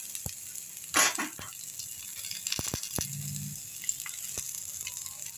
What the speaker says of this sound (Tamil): பருப்பு வந்துச்சு நல்லா வதக்கலாம் தீயை குறைச்சி வச்சுங்க லேசாக வதங்கினா போதுங்க